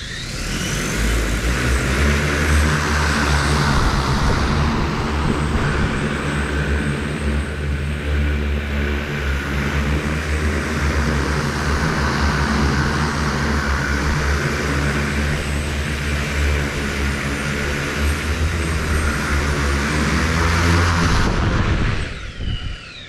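A homemade eVTOL flying car hovers during a test flight, its rotors producing a loud, continuous droning roar with a steady pitch that holds for the whole stretch before easing at the end, with no voices.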